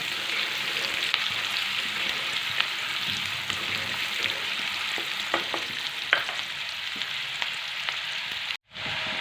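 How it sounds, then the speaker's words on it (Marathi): Onion is sautéed with garlic in a pan for pav bhaji, a continuous sizzle of frying with scattered scraping clicks from stirring, close and steady throughout, broken by a brief silent gap near the end. "कांदा पण आपल्याला सोनेरी लाल रंगावर येईपर्यंत मस्त एकसारखा हलवत परतून घ्यायचा आहे"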